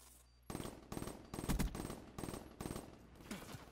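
Automatic gunfire in a multiplayer shooter game comes in six or seven loud, evenly spaced bursts, each a short rapid volley, close and dominant with no talk over it.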